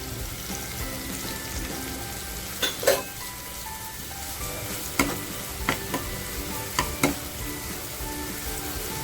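Green chilies and garlic sizzle in a hot pan for a Marathi methi bhaji with dried prawns, a steady fry broken by several sharp spatula scrapes and stirring clicks.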